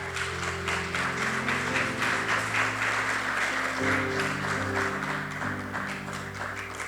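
A church congregation claps together in sustained applause, dense and even for several seconds, with background music tones underneath.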